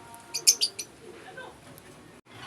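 Lutino cockatiels chirp in a quick cluster of bright, close calls early on, followed by softer, quieter sounds against a low room background.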